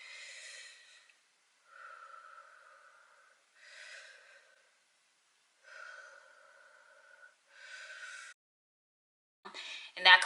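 Slow deep breathing, each long airy inhale followed by an audible exhale, repeated at a calm steady pace, close and fairly quiet, ending with a few sharper breaths.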